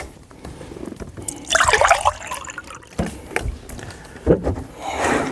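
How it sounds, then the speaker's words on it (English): Water poured from a container into a cup while camping, a short splashing and gurgling burst followed by softer trickles and faint handling noise, fairly close. "I'm just gonna pour a glass of water"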